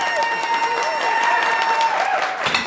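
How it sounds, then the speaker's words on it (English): Studio audience clapping steadily and loudly throughout at a cooking demonstration of crispy-edge lasagna, a dense continuous wash of applause with a faint voice underneath. "I'm not gonna stop until you stop clapping, so clap right now"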